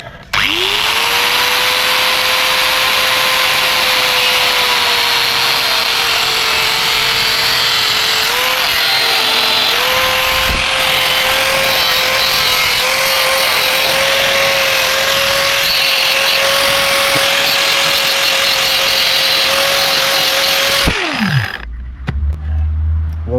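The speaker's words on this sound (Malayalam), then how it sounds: "നമുക്ക് കട്ട് ചെയ്യാൻ വേണ്ടിയിട്ട് ഞാൻ കട്ടർ മെഷീൻ എടുത്തിട്ടുണ്ട്." A handheld cutter machine cutting a motorcycle visor, producing a loud, steady high-pitched whine with a grinding edge that holds for about twenty seconds before spinning down and stopping.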